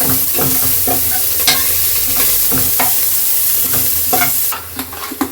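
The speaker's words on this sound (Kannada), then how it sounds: "ಈರುಳ್ಳಿ, ಕೊತ್ತಂಬರಿ ಸೊಪ್ಪು, ಎಣ್ಣೆ ಹಾಕಿ ಚೆನ್ನಾಗಿ ಫ್ರೈ ಮಾಡ್ತಾ ಇರಬೇಕು." Onion and coriander leaves fry in hot oil for goat leg paya soup, with a loud steady sizzle and repeated scraping stirs of a utensil against the pan throughout.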